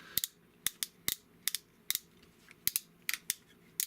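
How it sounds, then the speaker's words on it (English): Ratchet joints in the shoulder of a Transformers toy, the Unique Toys Archimonde figure, click sharply and close up in a quick series of about fifteen crisp snaps, some paired, over quiet background. "You got some ratchets going on in there."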